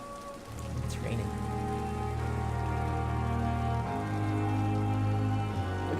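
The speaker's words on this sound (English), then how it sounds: "It's raining." Steady rain in the video game Vampyr patters on surfaces, a continuous hiss under a low droning hum that shifts pitch partway through.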